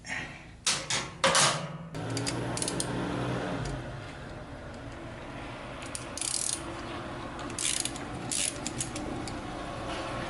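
A ratchet backs a grimy bolt out of a 1998 Honda Valkyrie motorcycle, with a few sharp bursts of rapid clicking near the start and more clicking bursts later over a steady mechanical background.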